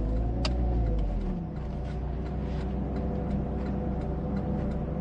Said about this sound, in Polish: No fajna kultura pracy tego silnika jest.